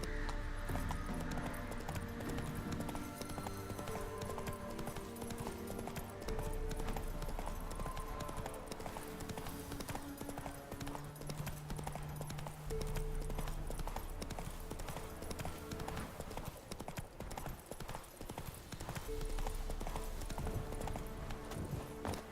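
Hooves of Roach, a horse in The Witcher 3, clip-clop in a steady galloping rhythm throughout, loud and close, set against game music, with a brief whinny.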